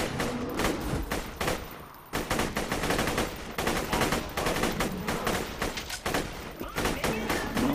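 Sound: rifle gunfire in video game Borderlands 2

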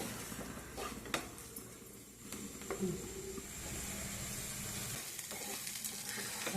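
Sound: semolina (bombay rava) roasting in a pan

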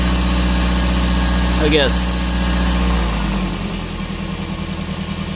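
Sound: Toyota minivan engine idling after PCV valve check

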